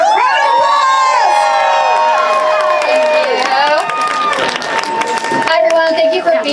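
A crowd at a legislative day gathering cheers loudly for a speaker, with high sustained whoops and shouted voices close by, then a scattered clatter as the noise breaks up.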